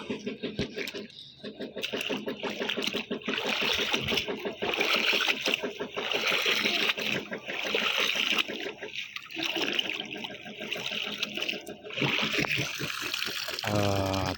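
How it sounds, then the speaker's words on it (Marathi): Water is poured and sloshed over freshly caught sea fish, with continuous splashing and trickling mixed with rhythmic knocks and bumps, heard close up over faint background noise. "पाणी टाकूया जरा पाण्यात जरा"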